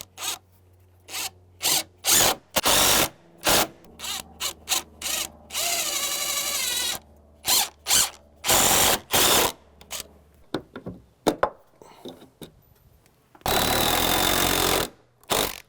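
A power drill drives screws into deck joist hangers in loud, repeated bursts: short trigger pulls, several longer sustained runs with a ratcheting grind, and brief quiet gaps between them.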